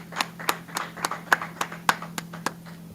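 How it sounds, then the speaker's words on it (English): Hands clap in a slow, steady beat, about eleven sharp claps over a low constant hum, fairly close and alone without talk. "Clap it up."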